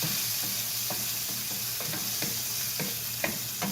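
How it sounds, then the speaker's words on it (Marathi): Garlic and coriander stems fry in hot oil in a pan, a steady close sizzle broken by regular soft scrapes of stirring, with no voices. "लसूण आणि कोथिंबीरीचे देठ टाकून घ्यायचे आणि ह्याला छान असं कसे करायचं"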